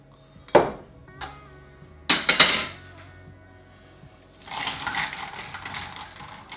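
Ice for vodka cocktails clinking and rattling against glass and metal, a few sharp close clatters followed by a longer rattling shake.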